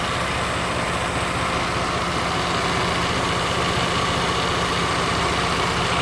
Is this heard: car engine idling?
yes